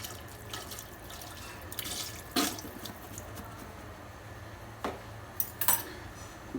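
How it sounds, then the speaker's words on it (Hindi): Milk from two cans poured into a cooking pot for Lahori chickpeas, a soft steady liquid trickle with a few brief louder splashes and clinks, fairly quiet and close, no talking. "इसमें 2 अदद डब्बे जो हैं वो हम इसमें डालेंगे ये दूध के।"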